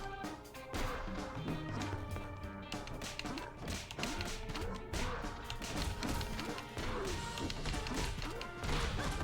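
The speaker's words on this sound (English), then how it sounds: "you just smash through the door because Ricardo is very large" A very large character smashes through a door in a modern beat 'em up video game, producing a dense run of loud crashes, thuds and whacks. Game music and effects pound on throughout.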